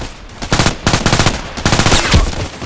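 SR2M Veresk submachine gun firing in the shooter game Contract Wars, loud rapid automatic bursts that come in quick repeated volleys with brief gaps between them.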